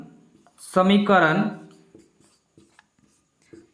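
An equation written by hand during a class-10 maths lesson on arithmetic progressions: one loud, squeaky scraping stroke, then a few faint, brief taps and scratches, with no talk.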